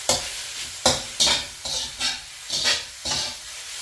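Drunken noodles stir-fried in a hot pan, loud close sizzling bursts that swell in rhythm about every half second as the noodles are tossed and scraped, with no talking.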